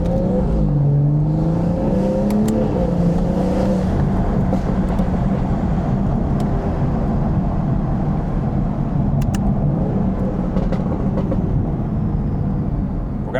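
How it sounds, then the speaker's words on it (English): A BMW car with a B58 engine pulls hard on the road, a loud sustained drone rising and falling in pitch through several gear pulls, with ticks and faint rattles over a steady roar, no talk. "this B58 setup is the best sounding, bro"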